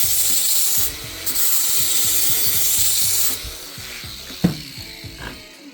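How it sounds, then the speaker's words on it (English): An electric sander runs against the edge of a copper bracelet, a loud, close, grinding rub that holds steady for a few seconds before cutting off, followed by a couple of light knocks. "I'll just run my sander"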